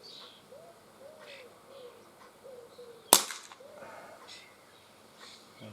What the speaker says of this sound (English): So I'll probably try the first shot quite above the first can.